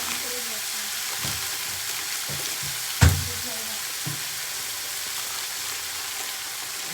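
Masala frying in oil in a pan while Maggi noodles are being made, a steady close sizzle with occasional stirring scrapes and one sharp clatter partway through.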